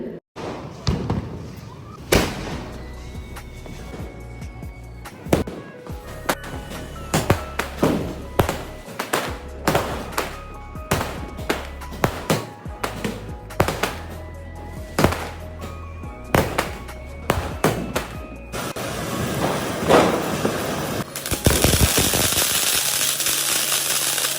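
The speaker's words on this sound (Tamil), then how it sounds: "உண்மையாகவே எல்லா பட்டாசுமே செமையாக வெடிச்சுது." Diwali 2025 firecrackers bursting outdoors, a rapid irregular run of loud sharp bangs and cracks with a few deeper booms, ending in a sustained bright hissing fountain like a peacock flower pot.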